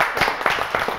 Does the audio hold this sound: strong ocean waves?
no